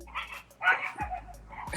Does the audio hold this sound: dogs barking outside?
yes